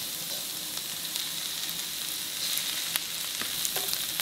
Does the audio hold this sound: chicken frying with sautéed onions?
yes